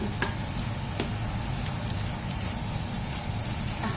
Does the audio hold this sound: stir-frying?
yes